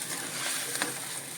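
Cooked mithane sizzles in a hot oil tempering, giving a steady, close frying hiss with no talk.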